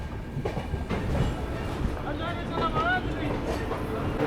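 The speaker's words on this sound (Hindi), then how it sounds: "ट्रेन अभी अपनी 55-51 के स्पीड में चल रही है" The Maithili Express passenger train runs on rails at about 55 km/h near Barauni Junction, with a steady rumble and rhythmic clickety-clack of wheels, heard from inside the coach under a voice and background chatter.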